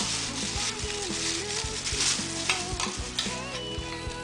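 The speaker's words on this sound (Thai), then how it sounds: "จากนั้นเราก็จะทำการคลุกเคล้าเนื้อหมูให้เข้ากับน้ำซอสนะคะ" Pork is stirred and tossed into a sauce in a pan for Thai sun-dried pork, with close sizzling and repeated scraping, rubbing strokes over a steady hiss, and no one talking.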